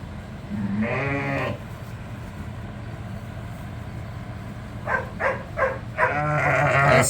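Sheep and lambs under a feeder in a farm pen bleat repeatedly, several loud wavering calls close by over a steady low background rumble.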